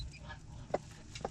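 A hen, an ex-battery layer now mothering chicks, gives soft low clucks near the mic, two short calls standing out over quiet farm background.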